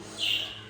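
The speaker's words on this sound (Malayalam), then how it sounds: "അപ്പം കിളികളെ ഒച്ച ഉണ്ടാക്കുകയാണ്" Birds chirp in the early morning, around half past five, with one brief high call that swells and fades over a soft background hush.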